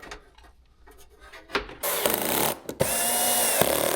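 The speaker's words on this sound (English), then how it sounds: "drilled a 1/2 inch hole from the bottom too" A power drill bores a half-inch hole into the underside of a squarebody Chevrolet Suburban cab. Quiet handling noises come first, then the drill starts loud and close with short pauses between bursts of whining.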